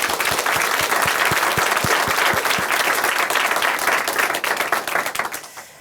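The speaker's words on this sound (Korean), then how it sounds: "앞으로 은하 자매님의 믿음의 삶 함께 박수로 응원해드리도록 하겠습니다" A church congregation applauds after a testimony, with dense, lively clapping that holds strong for several seconds and then trails off toward the end.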